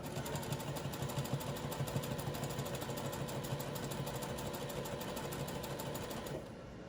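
A sewing machine runs continuously while stitching a small doll blouse, a close, even mechanical whir with rapid needle chatter. It stops abruptly near the end.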